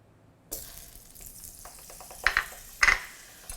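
Butter hits a hot frying pan while Persian cutlets are made, starting a soft sizzle after a brief silence, then two louder bursts of hissing crackle near the end, close up and without speech.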